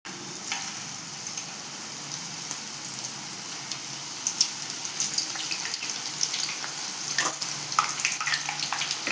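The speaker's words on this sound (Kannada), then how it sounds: "ಎಣ್ಣೆ ಬಿಸಿ ಆಗಿದೆ ಮಿಕ್ಸ್ ಮಾಡಿಟ್ಕೊಂಡಿದ್ದು ಬೆಂಡೆಕಾಯಿ ಎಲ್ಲ ಹಾಕ್ಕೊಳ್ಳೋಣ" Flour-coated okra for crispy kurkure fries in hot oil, a dense, continuous crackling hiss with scattered pops, steady and close, growing slightly busier toward the end, with no speech.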